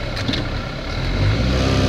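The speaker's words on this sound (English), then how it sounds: "put it in gear, dead rev it. See, it's falling out on its face." A Nissan Altima engine with a misfire is revved in gear, giving a loud, rough, uneven rumble that climbs and wavers toward the end, with no voices.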